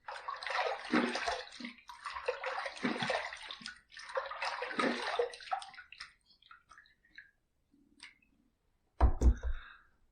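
Water splashing and running during a face rinse after a wet shave: several loud bursts of splashing in the first six seconds, a few faint drips and trickles after that, then one last short splash near the end.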